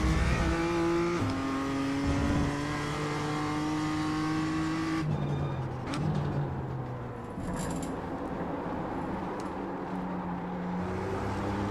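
A BMW M2 race car engine at Daytona roars loudly through gear changes, pitch climbing and dropping as it accelerates and brakes, with brief tire noise, heard from inside the car.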